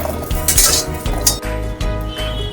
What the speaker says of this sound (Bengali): দিয়ে এবারে এটাকে আমি কিছুক্ষণের জন্য নেড়ে দেব